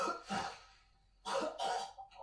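A person coughs in two bursts, one short cough and then a pair of harsh coughs after a pause, close and loud with no talking.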